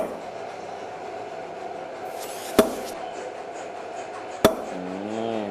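Two sharp metallic taps ring out a couple of seconds apart over a steady background hum, like a punch struck into a sheet with a hammer.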